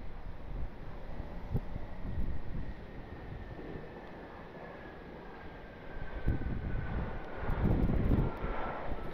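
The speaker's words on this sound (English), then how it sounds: "Still another business jet touching down here." A business jet touches down at John Glenn Columbus International Airport, its engine roar rising and fading at a distance under steady wind buffeting the microphone, with no talk.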